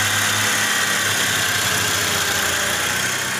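A Honda CR-V engine idles after repair of its power steering pump, giving a steady, close, loud mechanical hum with a low rumble and no talking.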